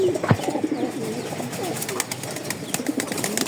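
Male racing pigeons of a Pakistani breed, kept for sale, give a few low throaty coos at close range with fluttering and light background noise between them.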